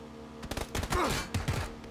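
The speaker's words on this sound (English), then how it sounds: "I hear people shooting down there already" Gunfire from PlayerUnknown's Battlegrounds during a bridge fight, a short cluster of thumping shots that sound somewhat distant and muffled.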